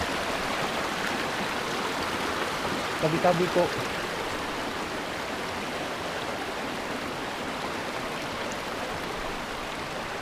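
Water flows steadily out of a cave in Tacloban, Barangay Malibayo, Batangas City, making a constant rushing wash that fills the whole clip, with a brief voice speaking near the middle.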